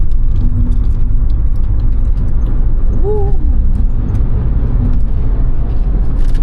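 Steady, loud car cabin rumble of a vehicle on a long highway drive between Bengaluru and Ahmedabad as it heads into a new road tunnel, a constant engine and road drone with no talk and a brief tonal squeak partway through.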